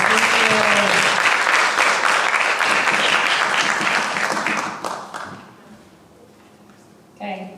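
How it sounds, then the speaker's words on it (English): A classroom of students claps for a classmate after a math answer, loud dense applause that fades away after about five seconds, followed by a brief burst of noise at the end. "let's give Noah a round of applause"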